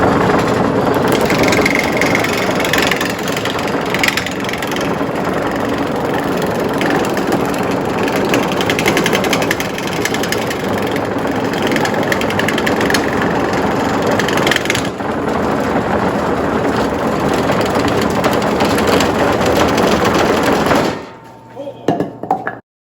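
A log spins on a wood lathe while a roughing gouge takes off the extra wood, a loud, continuous rumbling and knocking scrape that holds for about twenty seconds before cutting off abruptly.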